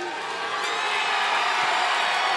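A crowd at a fight event cheers and whoops for fighter Robbie, a steady roar of many voices that builds slightly over a couple of seconds.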